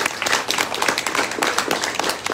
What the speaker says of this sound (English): We can give her a quick round of applause.